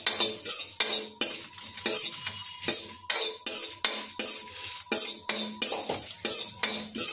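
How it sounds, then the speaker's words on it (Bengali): A spatula scrapes dried chili and black cumin around a pan in quick, regular strokes, about two per second, a close metallic scraping with a faint sizzle underneath. "আর এটাকে ভালোভাবে খাতা দিয়ে কিছুক্ষণ নেড়ে নেব।"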